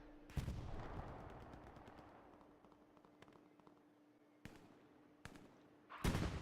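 Gunfire in the video game Hell Let Loose during a competitive match: a few sharp, scattered shots crack out with pauses between them, a burst near the start and more near the end, over a faint background hum.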